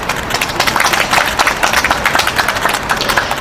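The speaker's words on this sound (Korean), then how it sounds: "다시 한번 큰 박수 부탁드리고요" Applause from a crowd at a street rally outside Kyobo Bookstore in Seoul, protesting alleged election fraud: steady, dense clapping close by that holds for the full stretch without a voice over it.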